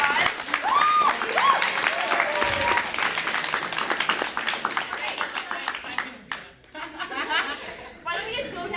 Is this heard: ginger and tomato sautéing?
no